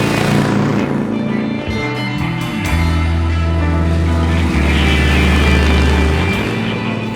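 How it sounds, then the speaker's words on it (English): A 100-year-old board-track racing motorcycle at speed in a Sons of Speed race, its loud, steady engine drone holding strong throughout, with a deep low tone swelling in midway as machines pass close. "100 miles an hour on a 100-year-old bike is just kind of cool."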